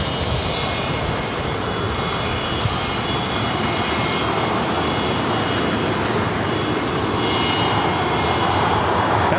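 Gulfstream IV jet at Los Angeles International Airport, a loud continuous broadband engine roar holding steady for the whole stretch with no voices over it.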